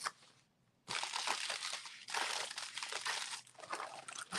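Plastic zip bags handled up close, giving bursts of loud crinkling and crunching that start after a brief quiet moment and carry on almost without pause.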